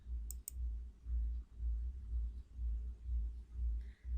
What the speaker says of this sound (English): And we are clicking the option